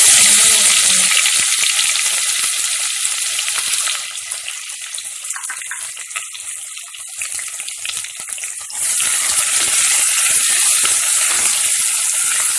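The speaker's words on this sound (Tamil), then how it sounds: "இந்த மாதிரி எண்ணெயிலே வந்து கோல்டன் கலர் ஆகிற வரை வதக்கிக்கணும்." Onions sautéing in oil for drumstick poricha kulambu give a loud, steady broadband sizzle that eases down for a few seconds in the middle and then swells back to full strength, with no voices.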